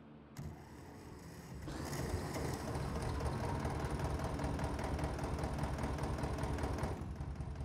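An old tractor engine in Farming Simulator 22 starts up and then runs at a steady, dense drone for several seconds before cutting off, with no voices over it.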